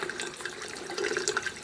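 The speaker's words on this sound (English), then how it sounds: "Then run it under hot tap water." Hot tap water running steadily from a faucet over the glass bulb of a cheap pH meter, a continuous splashing hiss at close range with no talk.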